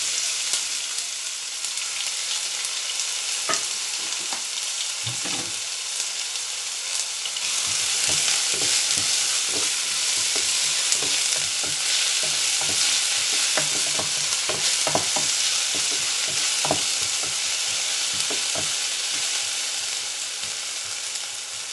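A large onion with fennel seeds fries in oil for potato bonda, a loud steady sizzle that swells partway through, punctuated by repeated stirring scrapes, close by with no voices.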